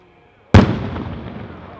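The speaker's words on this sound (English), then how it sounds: "A Lampari has some flammable substance, either a dry powder or a liquid, along with the burst charge there, and that's why you're getting the fireball rather than stars." A 5-inch Lampari firework shell bursts into a fireball: one sharp, loud boom after a half-second of quiet, then a long crackling, rumbling roar that slowly fades.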